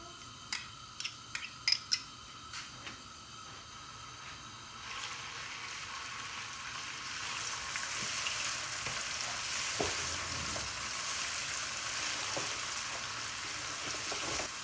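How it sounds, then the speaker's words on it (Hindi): Crushed garlic and ginger paste sizzles in hot oil in a pan, starting with a few sharp clicks and clatters, then building into a steady, close frying hiss that carries on without any talking. "गार्लिक और जिंजर को थोड़ा सा सोटे करते हुए ही"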